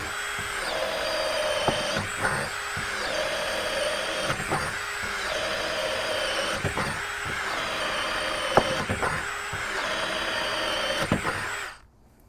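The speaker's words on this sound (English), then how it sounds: "So let's drill another hole." A Dewalt Atomic DCD708B brushless 20V cordless drill bores a hole, its steady motor whine loud and close, running continuously for about twelve seconds with regular pulses in pitch as the bit bites, then cutting off.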